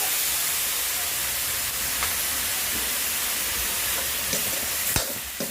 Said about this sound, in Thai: ขั่วขั่วให้ข้าวขั่วมันมันหอมๆเล็กน้อยนิด